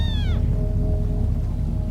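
High, rising mews from lynx kittens in the game Shelter 2, a few thin calls near the start over a steady low rumble of forest ambience.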